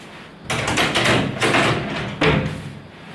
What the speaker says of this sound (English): So I'll quickly reinstall these drawers.